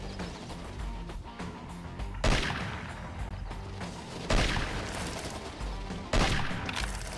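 Gunfire in the shooting gallery of the PSP game Cabela's North American Adventures, with loud booming shots at regular intervals over a continuous, dense crackle of game sound.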